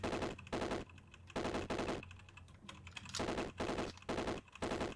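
Rapid weapon fire aimed at dawn gliders in the video game Caves of Qud, coming in tight bursts of quick clicks separated by short pauses, crisp and steady.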